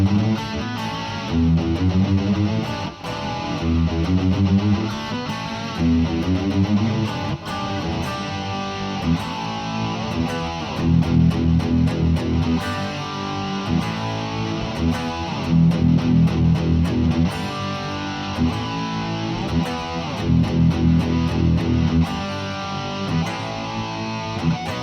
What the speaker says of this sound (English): So that full chorus with the extension is going to sound like this.